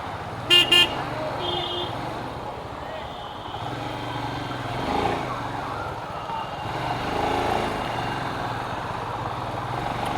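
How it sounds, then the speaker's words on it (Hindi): Daytime city road traffic leaving Varanasi, with a couple of short horn toots early on over a constant rumble of engines and passing vehicles, and a continuous siren-like wail in the background. "अभी भी थोड़ा ट्रैफिक, क्योंकि हम लोग सिटी में चल रहे हैं।"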